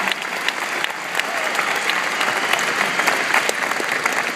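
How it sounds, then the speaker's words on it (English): Graduates at a commencement ceremony break into a dense, sustained round of applause, a steady wash of many hands clapping at once, filling the hall evenly from start to finish. "Give yourselves another round of applause."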